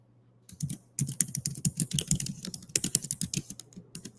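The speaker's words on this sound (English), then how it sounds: "That's what I'm typing in right now" Rapid clattering keystrokes on a computer keyboard, typed in quick irregular bursts up close, starting after a short quiet moment and continuing without any talk.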